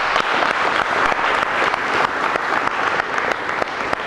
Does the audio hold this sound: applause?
yes